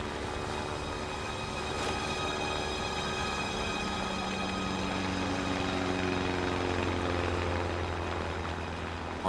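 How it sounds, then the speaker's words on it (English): A search plane approaches a navy diver adrift in the Tasman Sea, heard as a steady, loud droning engine hum with sustained tonal harmonics that hold constant throughout. "I see this plane coming towards me."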